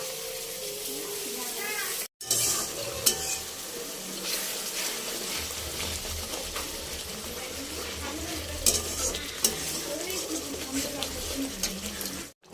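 Potatoes being sautéed in a pan in a home kitchen, a steady broad sizzle with scraping stir sounds, a brief break near the start, and faint talk in the background.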